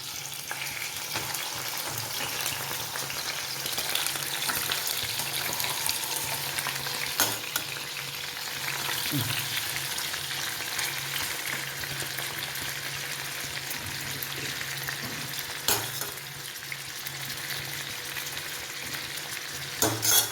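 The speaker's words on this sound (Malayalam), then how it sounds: "എന്നിട്ട് ഒരു ചട്ടി അടുപ്പത്ത് വെച്ചിട്ടുണ്ട്. വറക്കാനിടാം." Chicken fries in hot oil in a small pan on a stove, giving a steady, dense sizzle that runs unbroken for the whole stretch, with occasional stirring clinks and pops and no talking.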